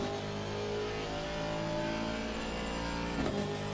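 Steady, droning engine note of a McLaren 720 race car in a racing game at the Barcelona track, held at a constant pitch with no pause throughout.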